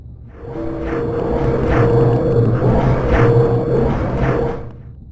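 Whale calls from the video game Beyond Blue, a Canadian marine acoustic recording of several long, loud, moaning tones over a deep underwater rumble, heard alone.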